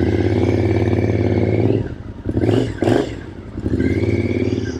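A carbureted 2006 Triumph Scrambler 900 with an 865cc parallel twin and 270-degree crank runs steadily while riding, then its note breaks up briefly in a gear change and returns to a loud, even drone.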